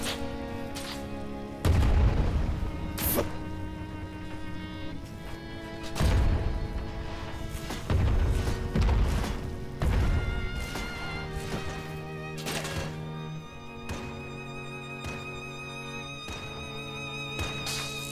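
Heavy cannon blasts and crashing impacts hit a ship in the video game Worlds Adrift, booming in irregular bursts over tonal game music, fairly loud and without talk.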